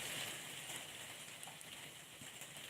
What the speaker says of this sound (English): Here comes the rain again. And you can hear it on my roof.